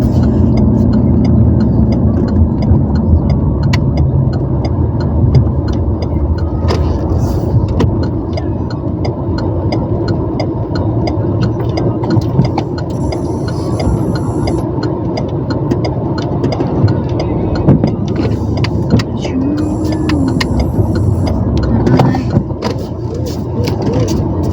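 A car idling and creeping slowly while reverse parking, its steady engine hum close and continuous, with faint higher beeps appearing intermittently in the background.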